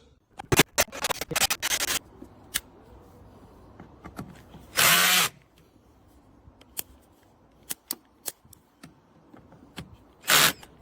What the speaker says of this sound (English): attach this to the drill so you can see how the drill operates with this